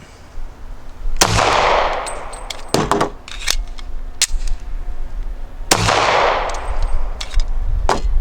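Handgun fired in loud, sharp bursts during shooting drills until the gun runs empty, with several clustered shots and pauses between strings.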